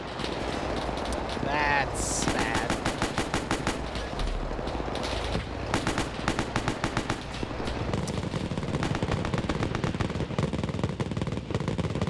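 Machine gun fire during a D-Day mission in a video game: rapid bursts of close automatic gunfire mixed with scattered shots and battle noise, with a person talking over it.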